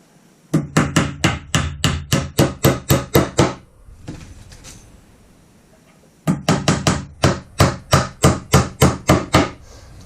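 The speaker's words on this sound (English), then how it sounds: "let the hammer do the work" Rapid, loud hammer blows driving nails into a wooden planter box in two bursts of evenly spaced hits, separated by a short pause of quieter rustling.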